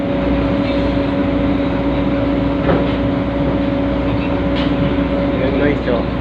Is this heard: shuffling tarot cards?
no